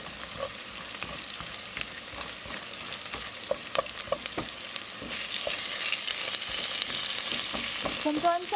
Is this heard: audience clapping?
no